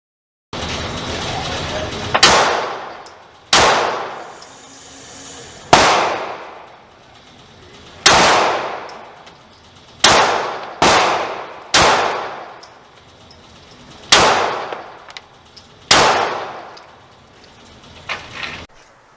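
Pistol shots striking steel targets outdoors, about ten sharp loud cracks spaced irregularly with short ringing decay after each, no talking.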